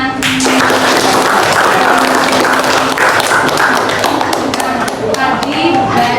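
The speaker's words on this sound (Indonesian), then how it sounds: "Tepuk tangan" Applause and hand clapping from a class audience after a presentation on stage design and dance, a loud dense patter with sharp taps throughout, and faint voices mixed in.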